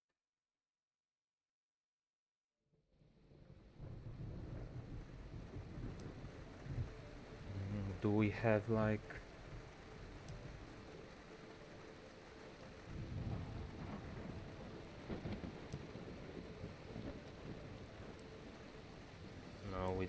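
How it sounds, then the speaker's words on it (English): Heavy rain and thunder in the Assetto Corsa EVO racing game, heard from a Golf, form a steady wash of rainfall with a louder rumbling burst partway through, while a person talks over it. "Let's even go with heavy rain."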